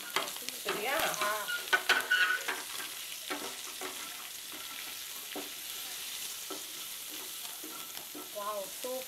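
Baby potatoes coated in chilli powder fry on low heat in a pan with a soft, steady sizzle. A spoon stirs and scrapes them now and then, fairly quiet and close.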